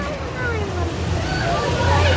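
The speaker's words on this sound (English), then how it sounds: "I almost just got splashed in the face" Water rushes and splashes on the Tiger Rock ride at Chessington, a loud, continuous churning slosh close by, with no clear voices over it.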